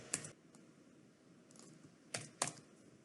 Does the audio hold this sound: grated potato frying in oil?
no